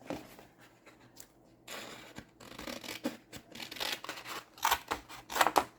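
Scissors snip through paper, fussy cutting out a rose picture for a collage: a run of close, crisp cuts and rustles, quickening into dense clusters of sharp snips.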